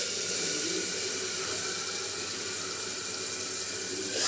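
Water pours into a dhokla batter in a continuous, bright splashing hiss, steady throughout and close by, with no talking.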